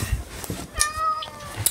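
A pet cat gives a single drawn-out meow indoors, fairly close and clear over faint room noise and soft bumps.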